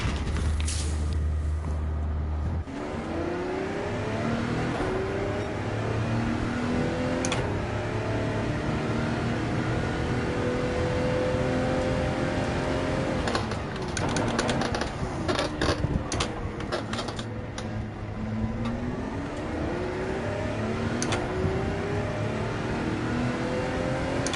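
Race cars in Gran Turismo 7 roar continuously through the whole stretch, engines revving up and down as gears shift, with faint clicks and brief noisy bursts along the way and no talk.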